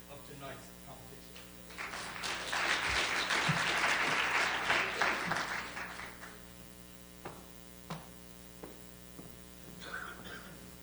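Applause from the audience at an evening pitch competition swells after a quiet start, peaks for a few seconds, then tapers off into scattered claps over a low electrical hum.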